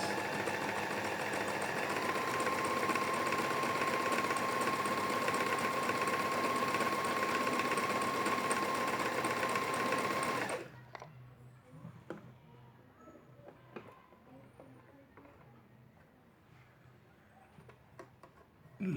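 A Singer Start 1306 sewing machine stitches steadily with a fast, even mechanical whir and tick for about ten seconds, then stops, leaving faint handling clicks and rustles in a quiet room.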